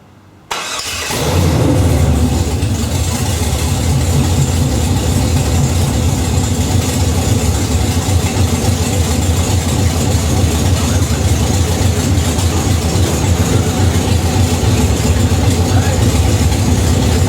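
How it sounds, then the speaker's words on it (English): A 1968 Pontiac Firebird's engine cranks and fires after a moment of quiet, then settles into a loud, steady idle that rumbles on without a break as it warms toward operating temperature. "we're ready to start it up and have it idle up to operating temperature"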